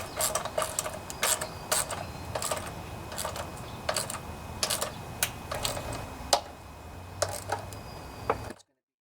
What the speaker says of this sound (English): All right, let's tighten things down.